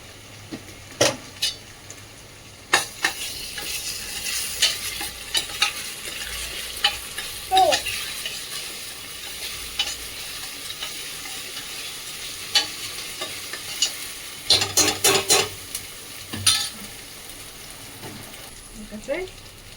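Ginger frying in oil for a rajma kidney bean curry, stirred with a utensil that scrapes and clinks against the pan in irregular bursts over a steady sizzle.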